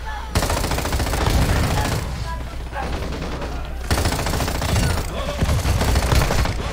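Sustained automatic gunfire from Call of Duty: Modern Warfare II, loud and dense, running in long rapid bursts with brief lulls, with faint voice chatter beneath.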